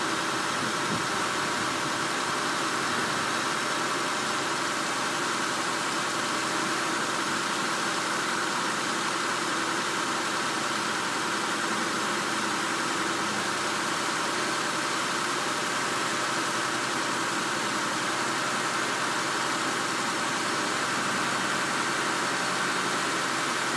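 A 2002 Honda Accord with a 3.0 engine idles steadily, a constant hum with a hiss over it and no talking.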